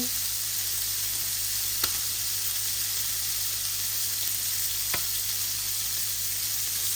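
Two sliced onions sizzle steadily in hot oil in a pan, a continuous broadband frying hiss with a constant low hum underneath and two brief sharp ticks, no voices present.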